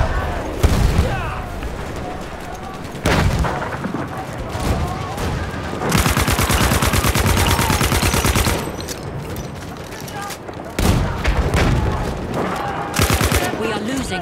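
Battlefield combat with a grenade blast and sustained gunfire: loud bursts of automatic fire and booming impacts come in dense waves, with shouted voices over the battle.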